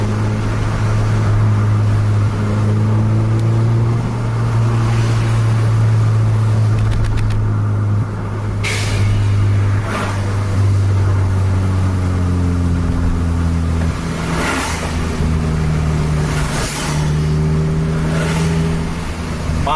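A Scania and a Jetliner SHD double-decker bus racing side by side, their engines roaring loud and continuous, with revs rising and falling in long sweeps and no voices.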